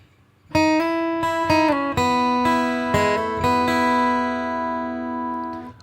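Clean guitar notes of a song intro picked one after another, some hammered on smoothly into the next, ringing out clearly and fading at the end.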